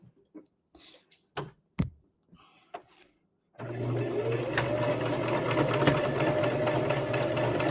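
A sewing machine stitches a seam on a quilt block, the seam allowances pressed open. A few light clicks and handling sounds come first, then the machine runs as a steady close whirring hum until the end.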